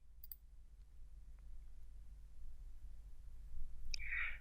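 Mouse clicks while using the PFPX flight planning software: one sharp click near the start and another near the end, both crisp and close against a quiet, low room hum.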